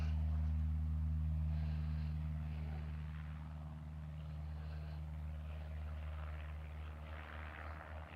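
Cessna 172 flight-school propeller airplane near the Reno airport, a steady, droning engine hum with a strong low buzz that fades slightly after the first seconds and holds on, with distant background noise and no talking.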